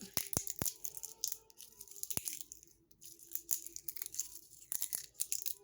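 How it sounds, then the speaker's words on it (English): Close, quiet crackling and crunching as a dry bay leaf is crushed by hand, with a few sharp snaps and scattered rustles. "I'll just crumple one up"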